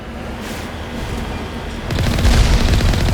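Alliance heavy turrets in Mass Effect pound away in a continuous, loud rumble of booming fire that grows heavier and denser partway through.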